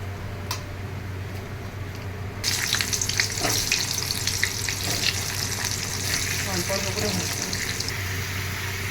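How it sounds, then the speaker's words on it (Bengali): A loud, dense sizzle of potatoes and young jackfruit frying in hot oil bursts in after a quieter start, continuing steadily with some stirring and clatter. "যেই তেলের মধ্যে আমি বেরেস্তাটা ভাজলাম ওই তেলের মধ্যে"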